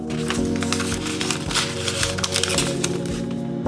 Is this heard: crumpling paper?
yes